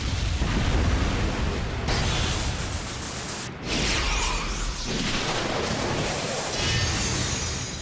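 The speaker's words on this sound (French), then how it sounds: "Toutes les toupies de l'arène ont explosé!" Loud, dense crashing bursts and metallic clashes of spinning tops exploding in an arena fill the whole stretch, a sustained chaotic barrage of explosions with a brief dip midway.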